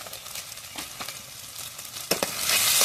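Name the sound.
spice paste (masala) frying in a pan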